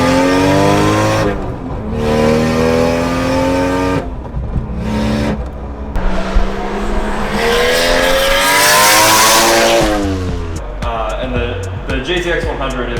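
A JZX100 Toyota Chaser engine revs hard and loud, pitch climbing and falling through several pulls, with brief drops between bursts and a hissy rush near the end.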